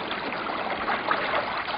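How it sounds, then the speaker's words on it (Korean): Water flowing at a village spring built by villagers in the mountains, beside a planted linden tree: a steady, close rushing trickle with no voices. "진짜 물소리가 들려왔다."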